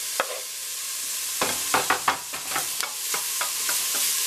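Four garlic cloves go into a hot pan with browning homemade sausage over medium heat, giving a steady close sizzle broken by scattered clicks and scrapes of stirring.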